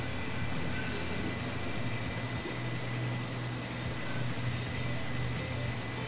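A diesel train in the video game Transport Fever 2 rolls into a tunnel with a steady, loud, low rumble and a sustained engine drone that holds constant throughout.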